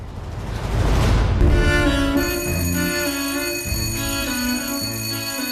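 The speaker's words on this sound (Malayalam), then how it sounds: "ലോങ് ബെൽ അടിച്ചു" A school bell rings long and continuously, a bright sustained metallic ringing that starts after a noisy burst and carries on steadily to the end.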